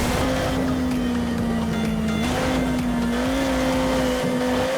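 Engines of rival racing vehicles roar steadily close behind in the MotorStorm off-road racing video game, a continuous loud droning with shifting pitch and no talk.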